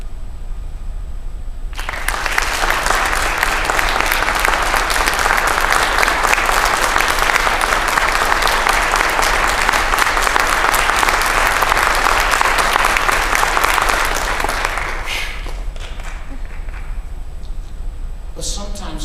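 Staff inservice keynote audience bursts into sustained, loud applause that starts abruptly, stays dense and even for about thirteen seconds, then cuts off, leaving scattered claps and room murmur.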